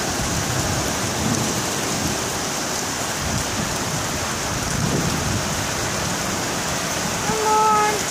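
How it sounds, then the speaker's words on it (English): Heavy rain pours down steadily during a thunderstorm, a dense continuous hiss close by, with a faint tonal sound near the end. "Look at the rain!"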